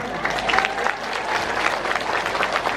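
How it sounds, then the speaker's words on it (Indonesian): Crowd applause at a gathering with pesantren figures, honoring a guest, a steady wash of many hands clapping at moderate loudness with faint voices mixed in. "Tepuk tangan untuk Mas Ipang Wahid"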